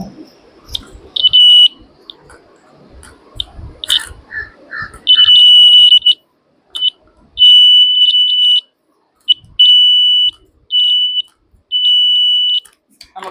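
A homemade rain alarm buzzer gives loud, shrill electronic beeps in uneven bursts of varying length, separated by short silences. Faint handling noise comes before the beeping.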